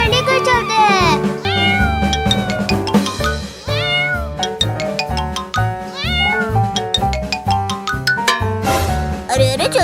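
Hungry kittens meow loudly and insistently in a cartoon, high wavering cries overlapping one after another in quick succession with a few tinkling chimes.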